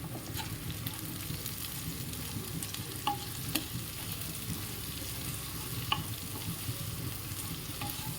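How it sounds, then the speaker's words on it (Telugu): Capsicum, carrot and spring onions frying in a pan, making a steady, moderately quiet sizzle with occasional faint clicks from stirring. "క్యాప్సికమ్, ఒక హాఫ్ స్ప్రింగ్ ఆనియన్స్ వేసుకొని వేయించుకుందాం."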